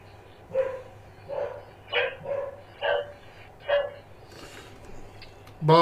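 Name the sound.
dog named Merlin barking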